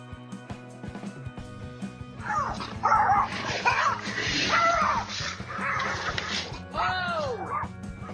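A dog near a building gives a run of excited yips, barks and whimpers at close range, loud and irregular, over a low background hum.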